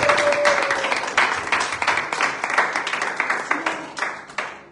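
A church congregation at a French-language worship service claps and applauds, with dense rhythmic clapping filling the room and faint voices mixed in.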